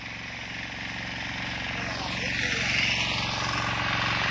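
A Sakura 188 diesel tiller forms soil beds in a field, its engine giving a steady close drone with a rhythmic low-frequency chug that holds throughout and swells slightly louder toward the end.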